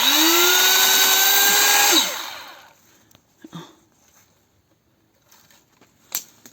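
A corded electric saw whines loudly and steadily for about two seconds, its pitch dropping as it cuts through cherry wood, then stops, leaving a few faint knocks and rustles.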